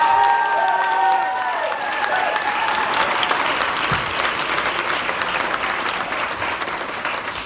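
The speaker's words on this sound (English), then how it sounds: "Give it a round of applause." An audience gives sustained applause for a youth brass band's cornet soloist, a dense, even clatter of many hands that carries on steadily as a brief tone fades at the start.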